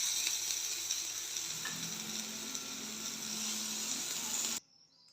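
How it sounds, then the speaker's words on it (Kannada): Round slices of bitter gourd frying in oil in a pan: a steady, close sizzle and hiss that runs evenly for about four and a half seconds, then cuts off abruptly, with no talking. "ಈ ಥರ ಚೆನ್ನಾಗಿ ಫ್ರೈ ಮಾಡ್ಕೊಂಡಿದ್ದೀನಿ"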